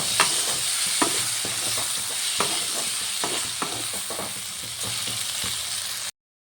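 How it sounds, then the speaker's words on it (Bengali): Constant close sizzling of flat beans and lentil dumplings frying with chili powder in a pan, punctuated by repeated sharp scrapes and clicks of stirring, then abrupt silence at the end. "এবার ভালো করে এগুলো ভাজা ভাজা করে নেব"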